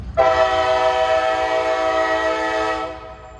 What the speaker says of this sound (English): it's going to be a long train potentially